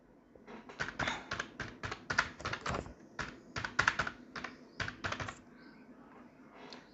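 Rapid keystrokes on a computer keyboard as a name is typed, steady bursts of close, crisp clicks for about five seconds before trailing off into quiet.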